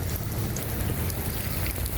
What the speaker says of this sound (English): that's cold rain